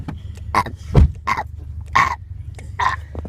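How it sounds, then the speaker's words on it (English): A person burps repeatedly after drinking soda pop, five or so short, loud, croaky belches spaced out in an uneven rhythm with quiet gaps between. "Burp as much as you can."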